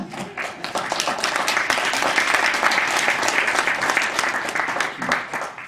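Listeners at a lecture on handling psychic attacks break into applause at the end of the talk, a loud, full burst of clapping that swells quickly and stays strong to the close.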